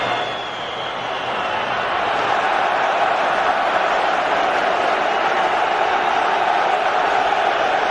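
Thousands of Croatia football fans roaring and chanting throughout a Euro 2008 stadium match against England, a dense, steady crowd wash that fills the whole stretch with no break.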